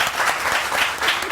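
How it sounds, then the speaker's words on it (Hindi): Studio audience applauding on a morning TV show quiz segment after a bicycle prize is announced: loud, close, continuous clapping in rolling waves over a short burst. "तालियां तो बजाइए"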